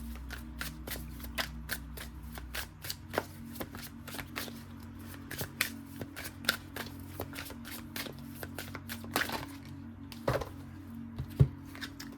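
Tarot cards are shuffled continuously at close range: a long run of soft, quick riffles and slaps in an uneven rhythm, with no talking.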